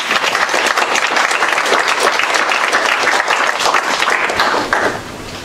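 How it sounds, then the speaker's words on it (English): Audience applause at a live youth entrepreneurship event, a sustained, dense wash of many hands clapping for about five seconds before tapering slightly at the end. "So can we give her a round of applause?"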